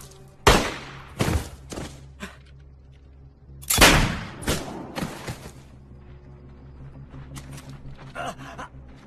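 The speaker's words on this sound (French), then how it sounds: "J'ai entendu les coups de feu." Several sharp gunshots crack out, two early, then a louder cluster of shots, followed by quieter distant pops and faint echoes.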